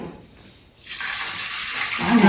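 Water pours into a cooking pot set on a stove while making payasam; after a brief quiet start, a steady rushing pour begins and grows slightly louder toward the end.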